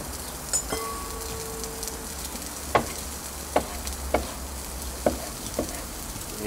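Onions and a spice mixture fry in a hot pan with a soft steady sizzle, broken by several sharp utensil taps and scrapes against the pan at irregular intervals, close and without talking.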